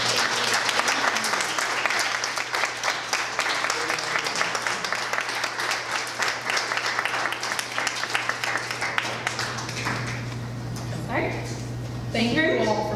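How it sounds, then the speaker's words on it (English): An audience at a community panel on the Flint water crisis gives a long round of applause, dense and steady, then thinning near the end as talking rises over a constant low hum. "Please give me a round of applause."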